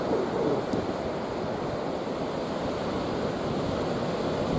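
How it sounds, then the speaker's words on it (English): Waves wash onto the beach at Ballycastle as a steady, unbroken roar of surf with some wind noise. The sound stays even and moderately loud, with no voices. "we're on the beach at Ballycastle, and it's virtually empty"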